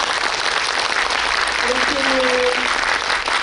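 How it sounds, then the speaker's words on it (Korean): Steady, dense audience applause at a film screening Q&A in a Yongsan CGV theater, filling the hall evenly for the whole stretch, with a brief voice speaking under it. "박수 한번 보내주세요."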